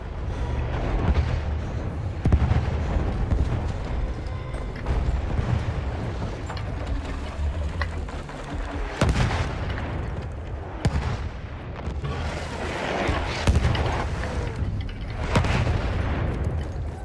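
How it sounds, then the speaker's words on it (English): Artillery barrage in the Battlefield 1 game: repeated heavy booms and blasts over a constant rumbling din, with sharp detonations standing out now and then across the whole stretch. "Wait for the enemy artillery barrage to stop the fire."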